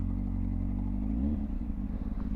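Motorbike pulling off during riding manoeuvres, a low engine rumble that rises briefly in pitch as it moves away, then settles into a fainter uneven putter, with no speech.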